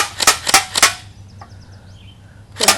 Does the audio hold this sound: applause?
no